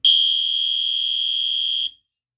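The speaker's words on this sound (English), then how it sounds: "This is all the review of the MIZ horn strobe." A Wheelock MIZ fire alarm horn blares one continuous, piercing high tone for nearly two seconds, very loud and close, then cuts off abruptly.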